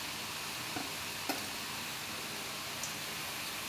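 Chicken with capsicum and salt cooks in a pan with a steady, even sizzle. A few faint clicks of stirring sound against it, and no one talks.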